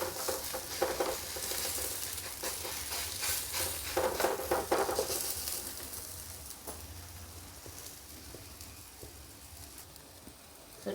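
Cabbage paratha sizzling on a hot tawa, a crackling fry that is fairly loud at first and then fades to a quieter, steady sizzle, with no voices.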